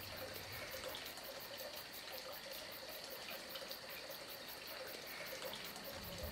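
Fountain water in Cordes-sur-Ciel spilling from stone troughs for livestock onto the stone pavement, a steady, even gush and trickle with a constant hiss and no voices.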